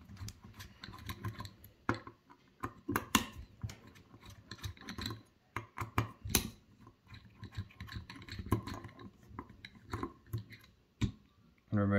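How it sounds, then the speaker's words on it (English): Sharp irregular clicks and scrapes of a tool undoing four M4 screws on a drone propeller hub, close and loud, with short gaps between bursts and some talking over the work. "undo all of these four screws"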